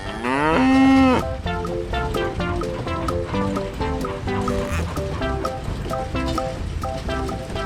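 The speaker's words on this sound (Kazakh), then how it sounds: "Сиыр." A cow moos once, a low drawn-out call of about half a second near the start, then steady background music continues alone.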